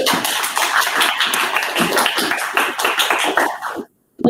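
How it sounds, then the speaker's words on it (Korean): Dense, loud applause from an audience at a 2021 Yongsan youth policy proposal contest, a continuous patter of many hands that stops abruptly near the end. "박수 맞이해 주십시오"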